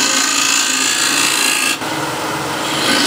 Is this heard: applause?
no